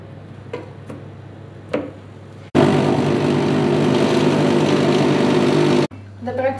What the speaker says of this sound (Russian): Я буду в блендере.